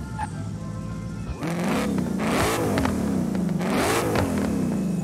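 A drift car revs hard in Forza Horizon 5, its engine climbing and dropping in repeated swells that start loud and stay close, with no talk.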